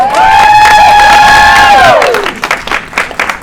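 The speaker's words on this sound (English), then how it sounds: "I just think we should give all of our speakers a round of applause" A symposium audience cheers with a long sustained whoop that slides downward, while a crowd claps and shouts; the clapping continues in scattered bursts as the cheer fades.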